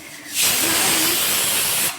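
A loud, steady pressure cooker whistle hiss, cooking kidney beans, starts abruptly, holds for about one and a half seconds, then cuts off.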